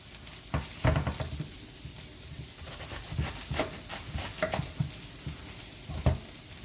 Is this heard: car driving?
no